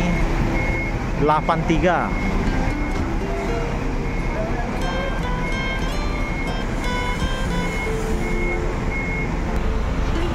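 An NPM intercity bus pulls out of a depot bound for Minang, its reversing beeps sounding steadily beneath a continuous loud engine rumble while an announcer talks over a loudspeaker.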